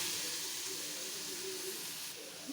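Grated papaya hits a hot cumin tempering in a pan and gives off a steady, soft hiss of sizzling and steam, short and continuous with no voices.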